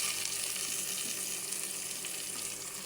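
Browned onions and tomatoes fry in a pan, giving a steady, close, hissing sizzle that holds at an even level throughout with no voices.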